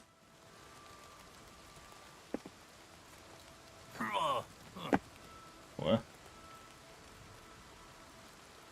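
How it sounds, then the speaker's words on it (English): Steady rainfall in Oblivion Remastered hisses as an even, soft wash of falling rain throughout. A voice speaks briefly near the middle, along with a couple of faint knocks. "I do like the rainfall in this game."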